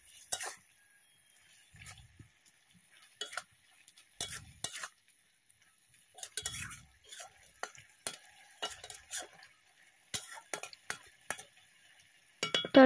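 Cabbage curry with cumin powder gets stirred in a pan, with repeated scraping and clinking spatula strokes in irregular bursts over a faint sizzle; no talking.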